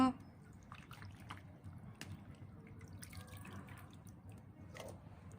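Pickled ginger drains its water, producing scattered drips and light trickling splashes close by, quiet and irregular over a low steady background, with no clear talking.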